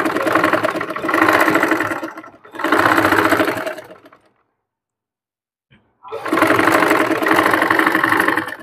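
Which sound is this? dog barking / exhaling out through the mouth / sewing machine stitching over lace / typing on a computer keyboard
sewing machine stitching over lace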